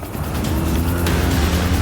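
A car drifts around a corner on a test track, its engine roaring loud and close with a dense, sustained growl and a faint tire squeal mixed into the steady drone.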